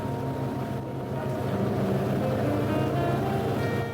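Steady drone of a Blue and Gold ferry's engines crossing San Francisco Bay between Sausalito and the city, with wind and water rush, loud and continuous throughout with no talking.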